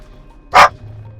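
A single sharp dog bark rings out close by, one short loud burst against a quiet background.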